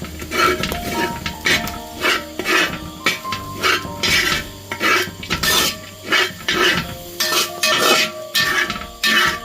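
A utensil scrapes and clanks against a pan in repeated bursts while clam thoran is stirred, a rhythmic metallic scraping close to the microphone with no speech.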